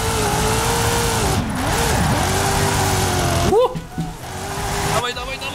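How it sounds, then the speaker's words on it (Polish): BMW engine revving in Forza Horizon 5 while drifting, a steady droning engine note that dips and rises in pitch, then abruptly revs and falls away, loud and close, with someone talking over it. "Ależ brzmi ten samochód, co?"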